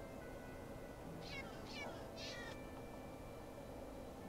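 A cat in the Minecraft video game meows three times in quick succession, short, bright calls over a steady low game hum, with no talking.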